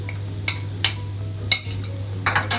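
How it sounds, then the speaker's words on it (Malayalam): A spoon stirs tuna cutlet filling with curry leaves and green chilli in a pan. There are a few soft scrapes and taps over a steady low hum from the stove. "നല്ലോണം ഇളക്കി കൊടുക്കണം."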